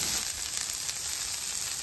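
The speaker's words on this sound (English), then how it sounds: "I'm gonna throw some onions down, maybe behind the beef so that beef fat runs into it." Beef and onions sizzle on a flat-top griddle, a steady loud hissing fry that continues without break and with no voices over it.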